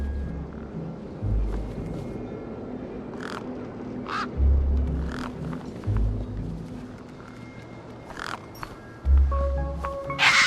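Birds caw in short, intermittent calls at varying distances over a steady low ambient hum and occasional rumbling, from the video game Beyond a Steel Sky.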